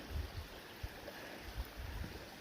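A small stream flows right beside a campsite on a spring backpacking section hike, giving a faint, steady outdoor wash of running water with occasional low thumps and no talking.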